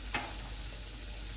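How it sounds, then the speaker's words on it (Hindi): Spices such as turmeric, red chilli, dried coriander and fennel go into a hot pan for dahi gosht, giving a soft steady sizzle with a brief stirring scrape near the start, fairly quiet. "अभी इसमें मैं मसाले डाल रही हूँ, हल्दी पाउडर और लाल मिर्च, खुश्क धनिया, सौंफ"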